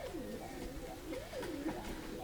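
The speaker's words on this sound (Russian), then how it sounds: "Двое, бурая голубка и краснопоясый голубь." Pigeons, a brown dove and a red-banded pigeon, cooing in a soft repeated rising-and-falling series, fairly quiet against faint background noise.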